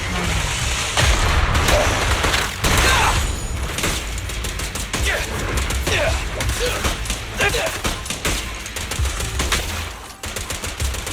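Rapid gunfire in the video game Zenless Zone Zero: dense, loud bursts of shots and impacts rattle almost continuously, layered over a busy battle soundscape with occasional booms.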